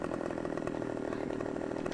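A running chainsaw in the Farming Simulator 2015 logging game drones steadily and loudly throughout, its engine holding a constant buzzing idle with no pauses.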